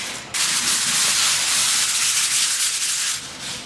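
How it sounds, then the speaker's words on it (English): Medium grade sandpaper rubs over drywall compound in a patched wall hole, a continuous loud abrasive scratching with steady back-and-forth strokes, close up and without speech. "So yeah, let's get to sanding."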